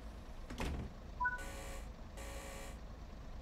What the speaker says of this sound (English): we will lock the doors